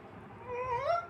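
A person imitates a cat's meow to call cats, giving one soft, rising and falling drawn-out mew, faint and alone.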